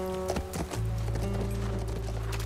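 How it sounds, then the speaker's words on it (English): A few quick horse hoof clops on hard ground in the video game The Last of Us Part I, fairly faint, followed by a steady low hum and rumble. "That's our horse."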